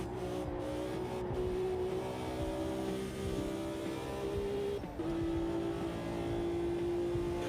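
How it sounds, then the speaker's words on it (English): Race car engine in the Automobilista 2 sim held high in the revs, a steady, strained harmonic whine with a faint wobble that dips briefly at one point and then resumes, loud and continuous with no talk. "I like the engine sound right at the very top of the revs."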